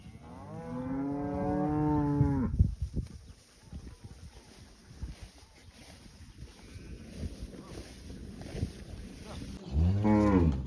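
Cattle in a ranch corral before vaccination: a loud nearby moo at the start and another at the end, with wind noise and rustling in between.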